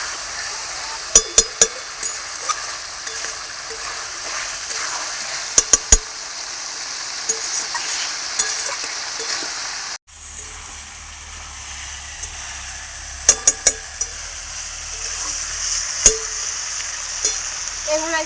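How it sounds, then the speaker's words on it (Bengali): Chicken meat sautés in a pan, with a continuous sizzle and sharp clinks as a utensil strikes the pan in short bursts while it is stirred. "মাংসটা ভালো করে কষিয়ে নেবো,"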